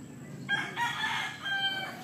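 A Sabuang (Sabungero-type) rooster crows once in a clear, drawn-out call of about a second and a half, close by and loud, with no talking over it.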